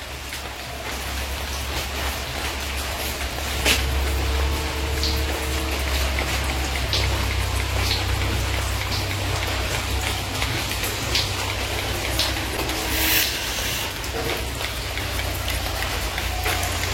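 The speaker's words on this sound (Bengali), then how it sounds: "দেখতে পাচ্ছ বৃষ্টি হচ্ছে" Steady rain falling on the thatched roof of a hut kitchen, a dense, even patter that runs continuously and fairly loud, with a low hum underneath.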